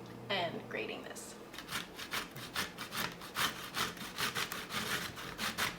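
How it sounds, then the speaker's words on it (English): Food grated by hand on a grater while baking at home, a steady run of rhythmic rasping strokes close by, with a little speech at the start. "I'm gonna start by washing and grating this."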